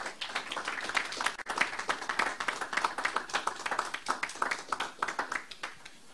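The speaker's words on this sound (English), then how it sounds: "Clap hands for Jesus and give him praise." A church congregation claps hands together in dense, steady applause that carries through the whole stretch, loud and close with no voices on top.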